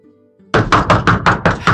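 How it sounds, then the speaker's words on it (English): Someone knocks hard on a door, six loud, close, evenly spaced thumps following a faint hum, with no talking over them. "people are knocking on my door."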